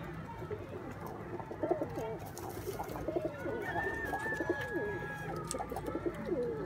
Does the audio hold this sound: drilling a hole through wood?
no